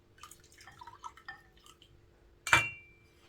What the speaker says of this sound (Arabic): وكمان نحط ميه